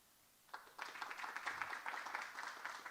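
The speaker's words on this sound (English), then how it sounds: "Round of applause." Audience at a youth entrepreneurship forum in Kazan breaks into applause after a brief quiet start, a dense crackle of many hands sustained to the end, soft and somewhat distant.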